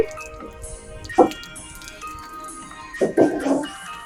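Water poured onto garden plants at dawn, with a few splashy drips and trickles in short bursts against a quiet outdoor background, no one speaking.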